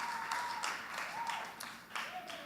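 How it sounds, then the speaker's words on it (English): Audience applause for a pair of twins called up in front of a church youth group, a sustained wash of clapping with a few shouts, steady throughout. "I like the long claps."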